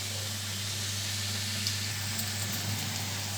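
Puri frying in hot oil gives a steady, faint sizzling hiss that continues without a break, with a low background hum underneath.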